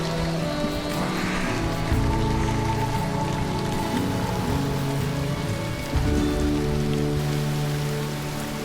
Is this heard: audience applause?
no